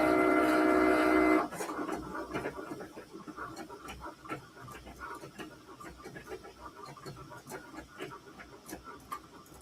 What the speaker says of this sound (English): I started my nozzle check